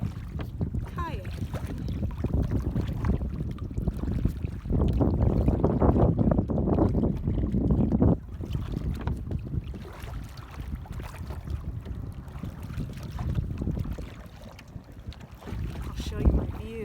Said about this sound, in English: We're out here on the lake, Longview Lake, kayaking.